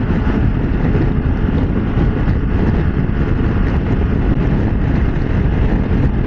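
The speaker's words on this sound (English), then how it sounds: "right now, I'm getting hit by the wind" Wind buffets the rider of a BMW F 900 GS motorcycle at speed, a loud, constant low roar and rumble of microphone wind noise that masks everything else throughout.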